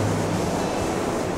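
Steady broadband wash of surf rolling onto Embo Beach, a crescent of golden sand running to the mouth of the River Fleet, continuous and fairly loud, with no voices.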